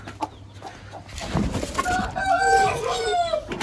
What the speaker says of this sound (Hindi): यहाँ पर मुर्गी है